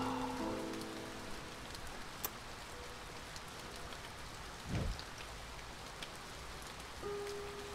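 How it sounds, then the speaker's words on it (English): Rain falling in the video game A Bird Story, a faint steady patter of drops on a surface throughout, quiet and even, with a soft low rumble around the middle. "Oh no, it's raining in the..."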